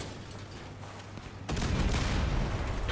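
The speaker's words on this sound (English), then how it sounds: "let's see how much damage we can do with one shot here" A weapon fires in the vehicle combat game Crossout: after a low rumbling hum, a sudden loud blast hits at midpoint and rolls into a sustained booming, crackling roar.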